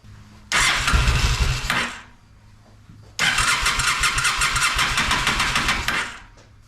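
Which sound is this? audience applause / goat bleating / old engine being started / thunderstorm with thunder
old engine being started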